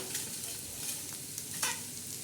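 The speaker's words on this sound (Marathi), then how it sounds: "आता याच्यात आपण हे कांदा असा बाजूला बाजूला करून घ्यायचा एका साईडला पूर्ण असा कांदा करून घ्यायचा" Onion being stirred and dry-roasted on a hot tawa while making black masala, giving a steady soft sizzle with brief scraping stirs and a few sharper clinks, close and continuous with no talk.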